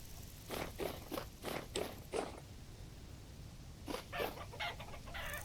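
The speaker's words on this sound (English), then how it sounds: "Chickens and a baby chick." Chickens and a baby chick in a video game give off soft, close clucks in quick bursts, with a pause in the middle before another cluster of clucks.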